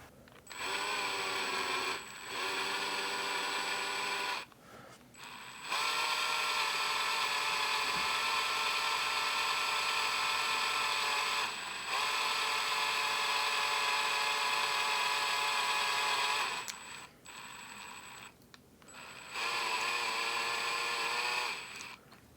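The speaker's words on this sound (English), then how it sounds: "I'll just drill this out so this can actually wedge in there" A high-pitched power drill whines steadily in bursts, drilling out a small part of a vintage Sony device, stopping briefly a few times before spinning up again, loud and close.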